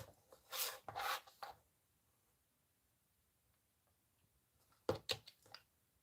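Fabric being snipped into small applique pieces with scissors: two short bursts of close, crisp cutting, the first near the start and the second near the end, with quiet between and no talk.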